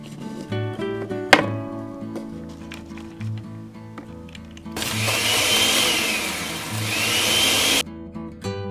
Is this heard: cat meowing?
no